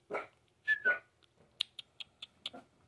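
A dog whimpering in a quiet room: a few soft whines early on, then a run of short, sharp high-pitched yelps spaced about a quarter second apart.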